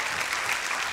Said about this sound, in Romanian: Aceste aplauze bănuiesc că sunt pentru colegul nostru Cosmin Natan.